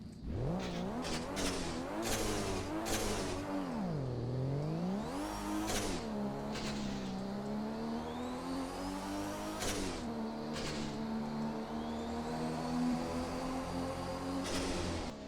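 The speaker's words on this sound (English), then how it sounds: "This is probably one of the best sounding cars in the game." A car engine in the Midnight Racing Tokyo video game revs hard with loud, sweeping rises and falls in pitch, repeated throttle blips and a sustained high drone, heard alone without speech.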